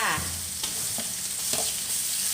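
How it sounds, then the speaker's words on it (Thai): Minced pork stir-frying with chili and garlic in a hot pan, a steady close sizzle broken by a few scraping stirs of the spatula, with no talking. "ผัดหมูให้สุกก่อนเด้อค่ะเด้อ ผัดหมูจนสุกค่ะ"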